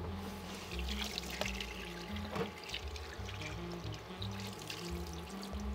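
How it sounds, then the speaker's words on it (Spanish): Tap water runs while food is rinsed for an ebi soba dish, a steady close pour with splashing and gurgling shifts as the stream hits the food and sink, no voices over it. "vamos a enjuagar un poco"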